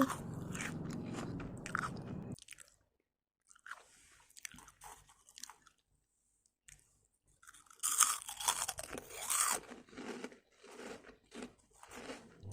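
Close, crisp crunching and chewing of a crunchy dinosaur-shaped snack: a few loud bites with pauses between, then a burst of crackly crunches, quiet and intimate.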